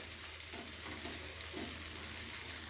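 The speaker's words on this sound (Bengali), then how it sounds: "এবারে গ্যাসের ফ্লেমটাকে একটু হাইতে করে আর একটু ভাজা ভাজা করে নেব, লাল লাল করে।" Okra and potatoes fry in a pan on a gas stove at high flame, giving a steady, close, soft sizzle with faint crackles and no talking.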